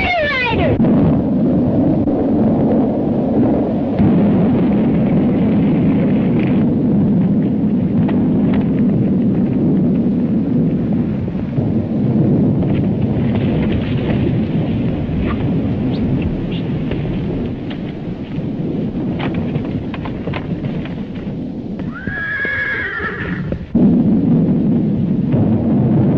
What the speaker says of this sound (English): we heard something that sounded like a roll of thunder.